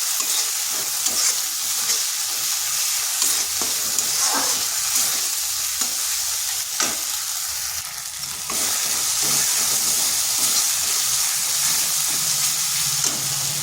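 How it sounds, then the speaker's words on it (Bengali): Ginger-garlic masala sizzles and fries steadily in a pan, a loud continuous hiss broken by scraping stirs, close and without talk. "এবার বেশ ভালোভাবে কষিয়ে নিচ্ছি। যাতে আদা রসুনের কাঁচা গন্ধটা চলে যায়।"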